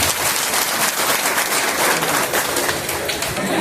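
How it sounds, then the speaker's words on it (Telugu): A school reunion audience claps loudly after a song. The applause is dense and continuous from start to finish. "చక్కగా ఒకసారి అందరం చప్పట్లు కొడతాం."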